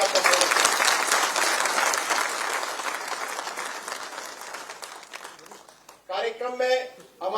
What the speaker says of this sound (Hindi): आप सबसे आग्रह एक बार जोरदार ताली का